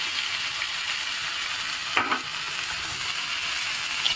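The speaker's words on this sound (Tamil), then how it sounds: "இப்போ இந்த வெங்காயம் வதங்கினது போரும் நம்ம தக்காளியை சேர்த்துக்கலாம்" Onion and tomato sizzle steadily as they sauté in a hot pan, with a brief clatter of stirring partway through.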